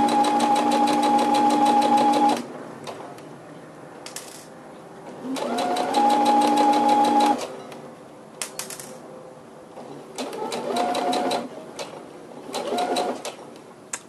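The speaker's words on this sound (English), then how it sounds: "you're going to go ahead and sew your seam all the way down to the end" Sewing machine stitching a basic seam in fabric, bursts of rapid rhythmic whirring and needle clatter in several runs of a few seconds each, separated by pauses filled with handling clicks, loud and close.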